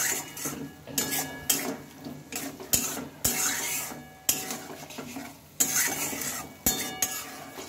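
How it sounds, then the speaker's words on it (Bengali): A spoon scrapes and stirs rohu fish curry with green peas in a pan, steady rasping strokes with brief pauses and a light sizzle underneath, close and fairly loud with no talking. "তো মটরশুঁটিটা দিয়ে ভালোভাবে এটা নাড়তে থাকবে।"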